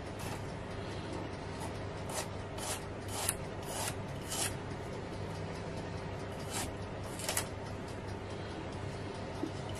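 Knife slicing three or four garlic cloves into thin slices, a series of sharp, close cuts at uneven intervals over a steady low kitchen hum.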